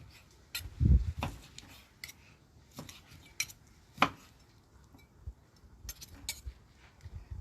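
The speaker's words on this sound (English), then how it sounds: "So you can chop it up as you wish." Cooked pork chop being cut into bite-sized pieces with cutlery on a plate, a sparse series of sharp clicks and scrapes at irregular intervals, fairly close and otherwise quiet.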